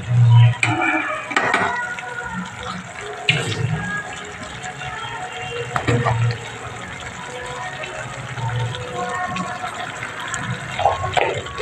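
Masala spice paste sautéed and stirred in a pan with a pinch of salt and sugar added, moist sizzling and scraping strokes in uneven bursts, with some background voice sounds.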